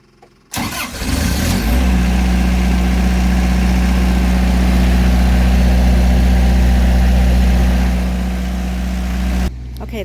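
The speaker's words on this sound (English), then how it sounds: "Okay, the generator is on. We have electricity" A generator kicks on after a brief quiet start and runs at a loud, steady drone with a strong low hum, powering a wringer washer on a homestead, then cuts off abruptly near the end.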